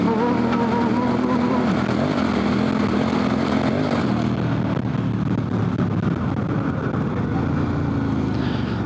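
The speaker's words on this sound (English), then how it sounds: "when I downshifted and put a little bit of brake on, the back tire started going skidding around" Motorcycle engine drones steadily and loudly at close range with a shifting pitch, as on a dual-sport bike fitted with a new Heidenau K60 Scout rear tire that skids on a canyon road under downshifting and light braking; no distinct skid squeal stands out.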